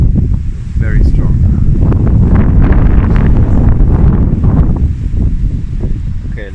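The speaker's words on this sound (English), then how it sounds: "But the wind is very, very heavy" Strong, heavy wind at a stormy outdoor spot near old cork oak trees, a loud continuous low roar buffeting the microphone for the whole stretch, with no clear talking.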